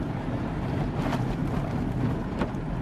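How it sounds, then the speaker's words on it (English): Steady roaring wind buffets the microphone outdoors during a blizzard, a loud continuous low rumble with gusts swelling and easing throughout, no voices. "The wind is still going pretty good."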